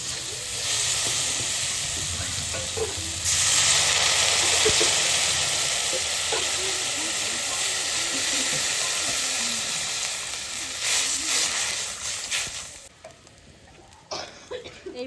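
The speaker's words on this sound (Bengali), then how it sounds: "এবার হলুদ দিয়ে দেবো মশলাটা সুন্দর করে কষাই নিচ্ছে" Spice paste with turmeric fries in a pan, a loud continuous sizzle that intensifies after a few seconds, with stirring scrapes, then abruptly quiets near the end.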